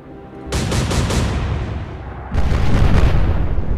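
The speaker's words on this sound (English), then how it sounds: "Keep shooting at this thing" Naval guns firing at a ship in the Atlantic Fleet video game: two loud, close booming salvos, the first with a quick burst of rapid reports, the second heavier and rolling, each followed by a rumbling decay.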